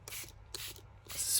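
Spray bottle misting onto dyed craft paper in three short hissing bursts, close and fairly quiet, with no talking.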